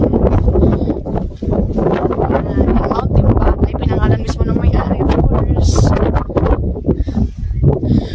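Strong wind blows across a mountaintop garden on Mt. Timbak in Luzon, buffeting the microphone with loud, rumbling gusts while someone talks throughout.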